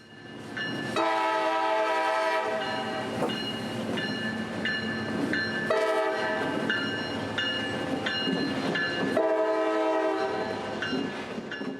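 A long CSX freight train rumbles steadily past nearby in Tampa, with repeated loud horn blasts sounding over the continuous roar of the cars.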